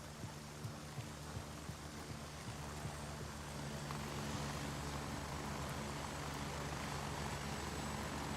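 A helicopter flies in within a video game DLC: a steady, broad rotor and engine roar swells gradually and stays constant throughout, with no voices present.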